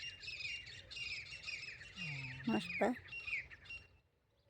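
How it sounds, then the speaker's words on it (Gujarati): Birds on a farm call repeatedly in quick, shrill chirps and squawks, close and fairly loud, with one short spoken word partway through before the calls stop near the end. "અટાણામાં જો પંખી કેવા રૂપારા કિલો કરે"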